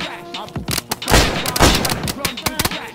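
Gunfire in a DayZ survival shootout: a rapid cluster of sharp, loud shots and thuds, close and irregular, partly overlapping with people talking.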